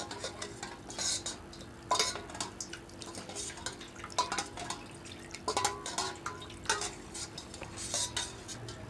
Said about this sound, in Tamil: இப்போ நன்னாரி சர்பத் ஊற்றிக்கலாங்க. நல்லா மிக்ஸ் பண்ணிக்கோங்க.